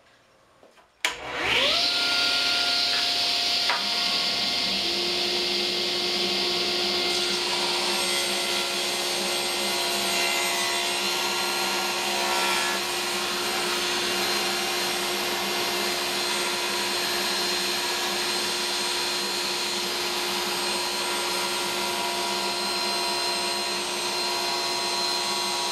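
A table saw starts up with a sharp whine and runs steadily at a loud, constant roar while cutting wood strips for a checkerboard cutting board, close up and alone, without any talking.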